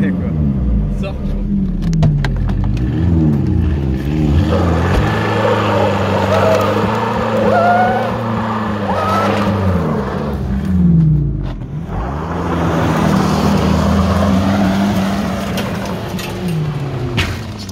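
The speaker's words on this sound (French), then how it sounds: "Les pneus brûlants sur place." Seat car doing a burnout after a crash, engine revving hard and tires spinning in place, loud and continuous throughout with rising and falling pitch, while people talk over it.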